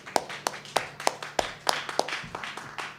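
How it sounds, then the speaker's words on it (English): Audience claps for musicians after a song at a service, a sparse run of single, evenly spaced hand claps close by, more like a few people than a full crowd. "Let's give them another round of applause"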